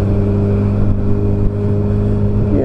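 A car drives along a pothole-ridden road during a cycling event, its steady engine hum close and loud for a few seconds with no talk.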